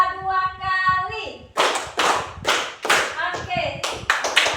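A school class claps hands in a counted pattern: a sustained voiced tone opens, then a series of sharp, close, loud claps in short uneven groups.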